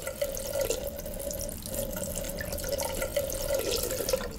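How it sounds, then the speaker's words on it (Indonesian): Water pours steadily from a tap into a sink, a continuous close splashing stream with slight fluctuations. "Menyalakan kerannya?"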